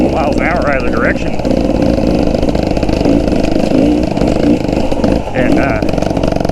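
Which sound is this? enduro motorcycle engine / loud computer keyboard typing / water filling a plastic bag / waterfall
enduro motorcycle engine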